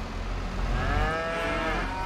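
One long, rising-and-falling moo from a dairy cow in Farming Simulator 22, loud and close, over a constant low engine-like rumble.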